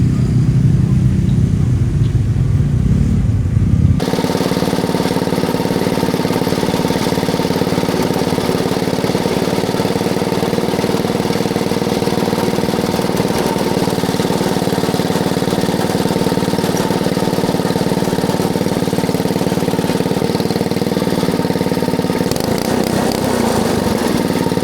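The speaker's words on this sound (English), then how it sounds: "An actual old steam engine." Old steam engine running at a tractor show, a steady loud mechanical hum with a constant low drone that continues unchanged for over twenty seconds after a brief quieter opening.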